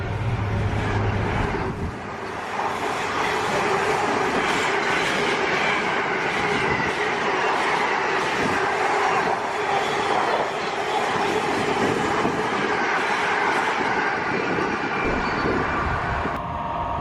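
A train rumbles steadily past close by at a station near Wolverton, with a continuous heavy roll of wheels and a faint rhythmic clatter, loud and unbroken.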